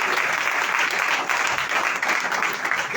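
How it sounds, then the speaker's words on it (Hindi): Crowd applause at a live Christian church gathering in Lahore, Pakistan: dense, steady clapping from many hands, loud and continuous throughout with no talking. "जोरदार तालियां बजाएं।"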